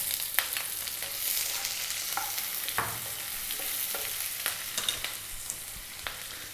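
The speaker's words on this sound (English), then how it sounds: "Then we add the onion." Onion and curry leaves fry over above-medium heat in a pan for a vegetable biryani, giving a steady close sizzle with scattered crackles, pops and the odd scrape of stirring.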